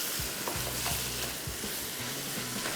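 Qeema stirred with green chillies in a hot pan, a steady sizzle and fry with repeated scraping strokes of the spoon at an even rhythm, close and clear with no voices.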